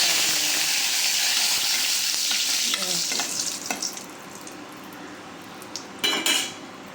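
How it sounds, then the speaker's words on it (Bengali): Panch phoron, dried red chillies and bay leaf crackle and sizzle in hot oil in a pan, a dense sizzle that fades over several seconds, with a few spoon scrapes and clinks against the pan. "গরম হয়ে গেছে এবার পাঁচ ফোড়নটা দিয়ে দেবো শুকনো লঙ্কা দিয়ে দিলাম এবার তেজপাতা"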